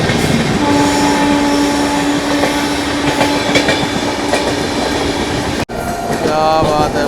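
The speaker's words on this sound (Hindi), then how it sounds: "ये आई स्वतंत्रता सेनानी पीछे से पूरी तेजी से।" The Swatantrata Senani Express overtakes at full speed alongside a moving Indian sleeper-class train, a loud, continuous roar of rolling wheels and rail clatter with a sustained horn-like tone, then a brief dropout and more clatter.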